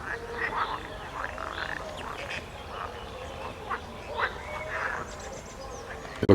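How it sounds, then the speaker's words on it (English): Many frogs croak by an old defensive lake in Zamość, Poland. Overlapping calls come in scattered bursts, moderately distant, over a low outdoor hiss. "You can hear a lot of frogs out there."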